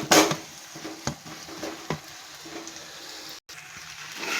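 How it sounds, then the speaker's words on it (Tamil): A spoon stirs boiled potato pieces into masala in a cooking pan, making a series of soft, close scraping and clacking sounds at an uneven pace. "இப்போ உருளைக்கிழங்கு நல்லா மசாலா கூட கலந்து விட்டுக்கலாம்."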